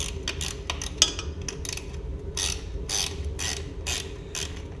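Wrench clicking and ratcheting while loosening bolts on a Honda XL175 motorcycle engine being removed, with a sharp metallic snap and repeated bursts of mechanical clatter, close and fairly loud with no talking.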